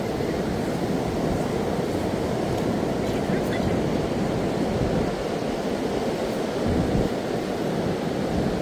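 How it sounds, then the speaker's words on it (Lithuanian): Slow ocean waves along the Malibu coast, a constant broad wash of surf and wind close to the microphone with no breaks. "lėtas bangavimas."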